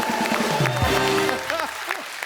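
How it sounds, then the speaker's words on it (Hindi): Applause from a studio audience at The Kapil Sharma Show, a steady wash of clapping mixed with cheering voices and swooping tonal sounds, fairly loud throughout. "एक बार अभिषेक भाई के लिए जोरदार तालियां हो जाए।"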